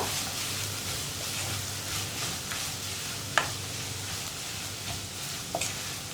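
Bitter gourd thoran fries on a low flame in a pan with a soft, constant sizzle while a spatula stirs it, adding occasional sharp clinks and scrapes close by, with no talking.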